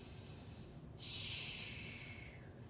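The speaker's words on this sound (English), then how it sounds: "you're gonna give me 4 nice deep inhale, exhales" A slow, deep breath in and out during a stretching exercise, an airy hiss that swells and then fades, close and soft, with no talking.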